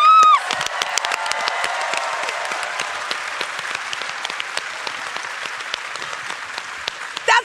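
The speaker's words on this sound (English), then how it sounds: "Give him a round of applause, everybody." A convention stage audience at PAX West breaks into sustained, loud applause, dense clapping mixed with a few cheers that carries on steadily throughout.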